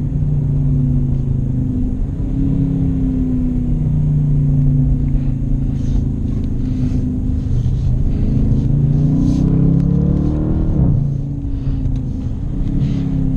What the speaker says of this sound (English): downshift a couple gears.